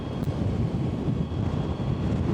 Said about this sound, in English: Super strong wind.